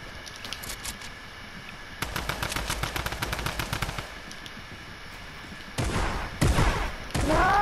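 Bursts of rapid automatic gunfire in a battle royale shooter game, loud and close, with rattling volleys separated by short pauses and a final heavier flurry of shots.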